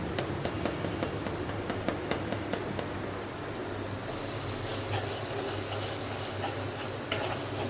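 Spice paste frying in a pan for a fish and papaya curry, with a constant sizzle and repeated scraping strokes of a spatula stirring it, close and fairly loud.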